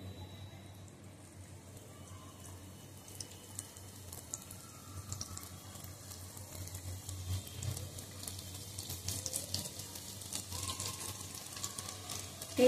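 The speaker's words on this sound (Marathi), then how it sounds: "आता तेल गरम झालेलं आहे. आता मी गॅस थोडा बारीक करते आणि आपलं स्लो गॅसवर आपल्याला तळायचं आहे." Aloo wadi fries in a little hot oil over a low flame, giving a faint, steady crackle and bubbling that grows slightly denser and louder as it goes on.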